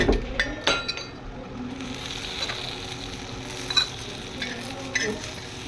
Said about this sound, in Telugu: ఇప్పుడు ఉల్లిపాయలు వేయించుకుంటున్నాను.